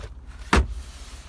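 A glove box in a 2023 Ford F-150 Tremor pops open with a single short, solid thunk inside a quiet cab.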